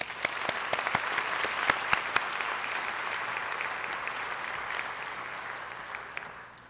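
An audience at a college honors ceremony applauds steadily, with sharp individual claps standing out over the broad clapping. The applause fades slightly toward the end.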